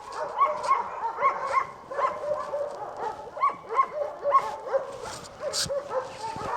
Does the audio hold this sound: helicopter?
no